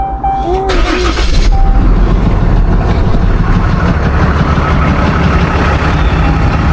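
A pickup truck engine cranking briefly and catching, then settling into a steady loud rumbling idle heard from close by, with a faint beep just before it starts.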